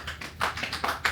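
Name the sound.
round of applause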